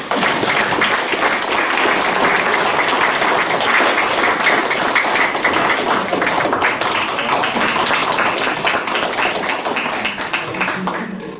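A gathered audience at a political meeting claps for a speaker, loud sustained applause filling the room at an even intensity before easing slightly at the very end.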